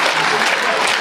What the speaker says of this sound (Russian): Что-то вы мне так не хлопаете сегодня.